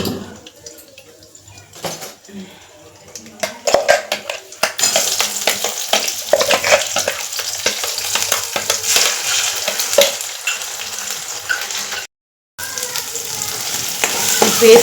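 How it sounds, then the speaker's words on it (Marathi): Onion-tomato paste frying in oil with cumin and mustard seeds for a pea and mushroom masala, a steady close sizzle broken by scrapes and stirring clinks of a spoon against the pan. "पेस्ट बघा तेलमध्ये मस्त अशी परतवून घेतलेली आहे"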